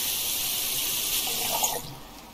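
Water poured into a cooking pot in the Cooking Simulator video game, a short steady splashing pour that stops abruptly near the end.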